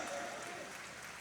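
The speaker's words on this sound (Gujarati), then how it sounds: "તાળીઓ તો પાડો ભાઈ" Steady crowd applause at a Swaminarayan temple murti consecration ceremony in Mahuva, a brief even wash of many hands clapping at moderate distance.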